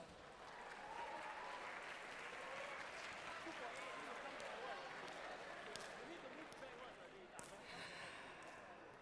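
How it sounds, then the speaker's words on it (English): Crowd applause for the supporters of 18 hall dance teams at the NTU HOCC 2017 live show at Odyssey, a dense sustained roar of clapping with some cheering that runs steadily for the whole stretch, loud and close with faint voices mixed in. "Let's give a round of applause to everyone who support the 18 dance teams."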